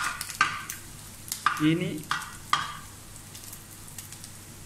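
Coconut slices stir-frying in a pan for a beef fry, with several scraping stir strokes over a steady low sizzle, close and moderately loud; one brief spoken word.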